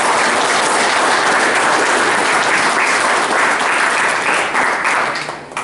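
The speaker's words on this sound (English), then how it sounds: "So let's give him a great applause." Sustained, loud applause from an audience at an American Legion veterans' gathering, greeting a speaker; dense clapping fills the whole stretch and tapers slightly at the very end.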